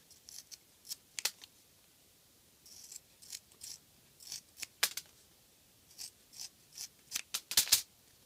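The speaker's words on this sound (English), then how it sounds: "Let me get my scissors here." Repeated crisp scissor snips cutting Worbla thermoplastic, a dozen or so irregular cuts close by, with quiet pauses between them and no talking.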